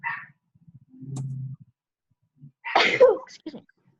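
A single sharp sneeze bursts out near the microphone, preceded by a brief low hum and followed by a short murmur.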